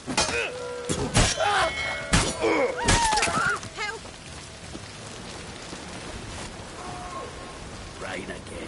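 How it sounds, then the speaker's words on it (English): Steady rain falling in a video game, a soft continuous patter beneath game voices and occasional sharp effects. "Rain again."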